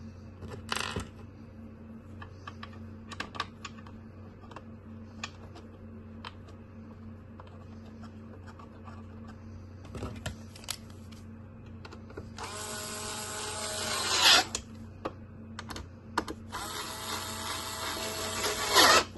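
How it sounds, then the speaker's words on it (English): Screws being driven back into a GTA EPOS till terminal: small clicks and metallic ticks are followed by two bursts of whirring from a powered screwdriver near the end, close but fairly quiet, with no talking. "And put the screws back."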